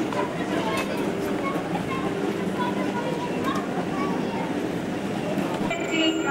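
A ChS6 electric locomotive passenger train at a Saint Petersburg station platform in 1999 rumbles loudly and continuously nearby, with a rushing roar and faint clatter of wheels on the rails.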